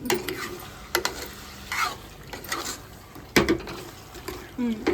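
A spoon stirs mutton curry, half a kilo of meat, in a pot in a village kitchen, giving repeated scraping and clattering strokes with a soft sizzle beneath and a few short voice sounds.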